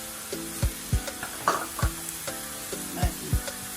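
Garlic frying in a pan for spaghetti bolognese, a soft steady sizzle broken by repeated sharp knocks of a spoon stirring against the pan in a loose rhythm, close by with no talking.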